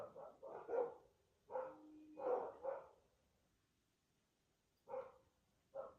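Dogs bark in short bursts, several quick barks clustered together with pauses between, moderately close and fairly quiet, in rural Portugal.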